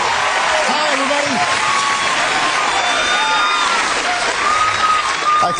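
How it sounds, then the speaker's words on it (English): Studio audience applause opening the improv comedy show Whose Line Is It Anyway, loud, sustained clapping mixed with cheers and whoops, with voices calling out over it. "thank you for that applause."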